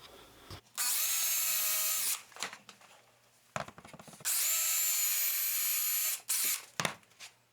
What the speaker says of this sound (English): to support the piece while I drill holes